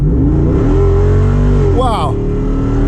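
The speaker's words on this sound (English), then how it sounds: "let's see if we can do an acceleration." A Jeep Wrangler Unlimited 392 Hemi V8 engine revs up and roars steadily under hard acceleration, loud and close, while a voice exclaims briefly partway through.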